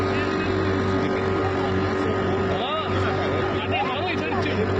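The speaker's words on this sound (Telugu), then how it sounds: "ఇదే మా పడవ." A boat engine drones steadily and loudly on the water at Triveni Sangam during the Maha Kumbh Mela, with people talking over it.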